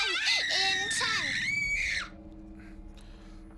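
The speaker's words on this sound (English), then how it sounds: "A blood-curdling scream." A shrill, wavering scream in the video game Horizon Zero Dawn rises and bends for about two seconds, loud and close, then cuts off abruptly, leaving a quiet low drone.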